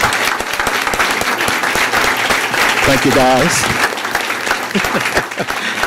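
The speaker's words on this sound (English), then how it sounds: "Let's give them a round of applause" A school board audience applauds students honored for poetry writing from Peoria High School, dense steady clapping filling the room, with a brief spoken thanks over the clapping midway.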